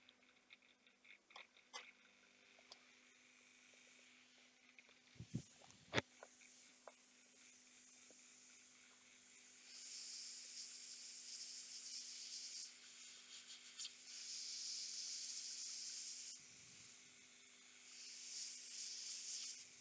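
A hot air gun heats heat-shrink tubing on a servo motor wiring job. A few faint clicks and handling noises come first, then quiet airy hissing arrives in several separate bursts, each lasting a few seconds.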